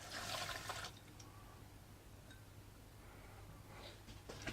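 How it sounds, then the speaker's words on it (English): Stock is poured into a bag of couscous, a short watery splash and trickle loudest at the start and fading into a soft, quieter flow with a few faint drips at the end. "And into that goes the stock."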